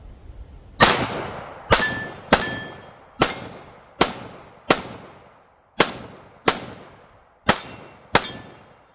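Smith & Wesson M&P45 Gen 1 pistol firing jacketed hollow point rounds at a range: ten sharp, loud shots at a steady, unhurried pace, each followed by a ringing tail, some with a faint metallic ping.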